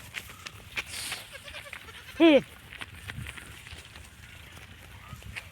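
A goat kid gives a single clear, wavering bleat outdoors in damp, rainy weather, standing out briefly over soft background rustling and low ambient noise.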